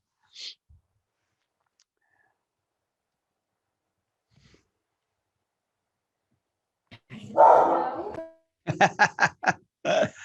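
Several dogs at home bark in a short burst of sharp, harmonic yelps and woofs near the end, a series of quick, loud barks after a long quiet stretch.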